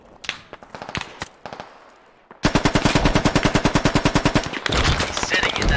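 Machine gun suppressing fire in a squad shooter game: a few sharp separate shots, then a loud, fast, steady burst of automatic fire hammering close by for several seconds.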